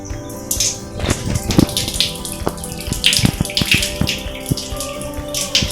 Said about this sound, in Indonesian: Selanjutnya kita akan mencuci uang logam yang kedua.